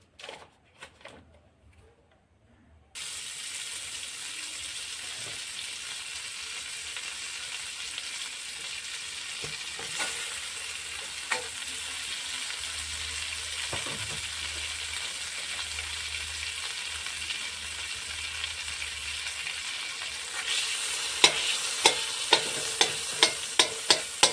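Butter melts and sizzles in a hot kadhai on a gas stove, a steady frying hiss that starts abruptly after brief clatter and runs on alone, with sharp utensil knocks near the end.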